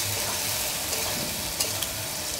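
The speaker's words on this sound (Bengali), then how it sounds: "মশলা কষানো হয়ে গেছে, টমেটো কুচি দিয়ে দিচ্ছি।" Chopped tomato fries in cooked spice paste for a sour-spicy fish curry. A dense, even sizzling hiss runs throughout with a few soft stirring scrapes.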